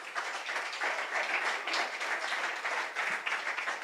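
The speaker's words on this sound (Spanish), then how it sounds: "Démosle un aplauso al Señor." A church congregation claps steadily and evenly for a few seconds, fairly quiet and alone, with no voices over it.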